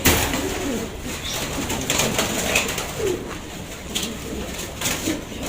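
Pigeons coo softly in a loft where domestic pigeons are kept, low murmuring calls repeating through steady background noise with no talking.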